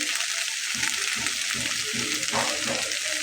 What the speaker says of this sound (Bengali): তো এখন আমি এর ভিতরে পোস্তদানাটা দিয়ে নেব।